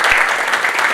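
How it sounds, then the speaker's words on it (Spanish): An audience applauds a speaker at a panel discussion on a submission law, a thick, close wash of many hands clapping that fills the whole second loudly. "un aplauso para Oscar"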